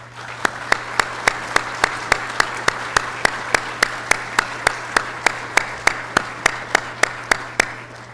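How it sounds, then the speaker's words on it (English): A round of applause for federal public servants at a conference, heard as a single evenly spaced train of sharp, close claps repeating steadily about three times per second over a low constant hum. "we'd like to give you a round of applause as our thanks for what you do to make this country work"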